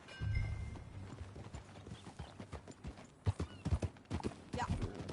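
A horse's hooves clip-clop at a riding pace in Red Dead Redemption 2, rhythmic thuds over a low ambient bed, with a soft whinny early on and no speech.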